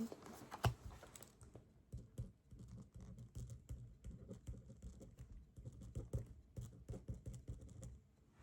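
Soft typing on a computer keyboard in a quiet room, irregular bursts of close, muted key clicks and taps running for several seconds without talk.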